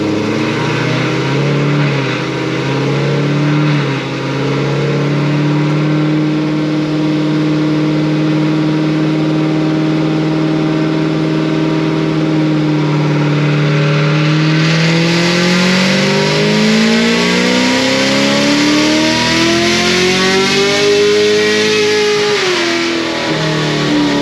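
Stage 5 Procharged LT1 Camaro engine, 5,300 miles, roaring through a sustained dyno pull, its loud steady drone climbing in pitch, dipping briefly and surging again to a sharp peak before cutting off near the end.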